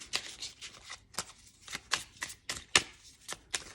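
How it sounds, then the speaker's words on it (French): A deck of tarot cards being shuffled by hand, with a series of soft riffling bursts in an uneven rhythm, close and quiet, with no talking. "je vais battre les cartes"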